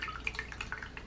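Cajun seafood gumbo being poured into a bowl, a brief stream of close, wet splashing and dripping with quick liquid bursts.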